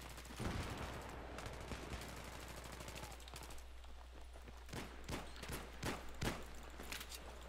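Rapid automatic gunfire and sharp single shots in Battlefield 3 Team Deathmatch on the Noshahr Canals map, with dense bursts early on giving way to spaced, loud cracks toward the end.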